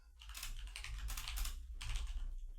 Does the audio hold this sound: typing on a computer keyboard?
yes